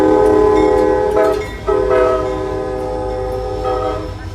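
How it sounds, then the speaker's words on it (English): A train runs at a depot, blowing a loud, sustained multi-tone horn over a steady engine rumble, the horn briefly breaking off and sounding again, near and with no talking. "The train's still running."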